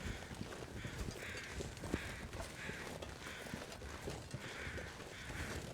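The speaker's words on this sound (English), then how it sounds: "I hear so many crows, and yet none of the crows are over a bear." Crows cawing in the survival video game The Long Dark, repeated caws at a moderate distance over a constant wind-like ambient hiss.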